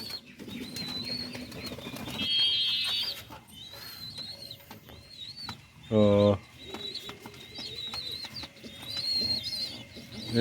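Shirazi pigeons coo softly in a loft, with repeated low throaty murmurs, a brief loud burst midway and some chirping. A person talks intermittently over the birds.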